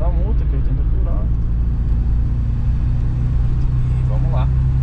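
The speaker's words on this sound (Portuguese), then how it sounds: "Audizinho passando aqui do lado" An Audi passes alongside on a hill road at night, heard as a low rumbling swell of tyre and engine noise beneath the hum of a 1988 Gol GTS, with someone talking over it.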